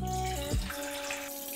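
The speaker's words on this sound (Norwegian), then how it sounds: "Først 880 gram med kaldt vann." Cold water poured for spelt bread dough, a steady splashing pour that runs for the whole short stretch, close and moderately loud with a gurgling rise near the start.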